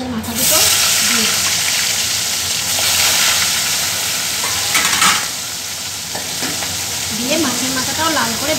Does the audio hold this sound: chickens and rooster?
no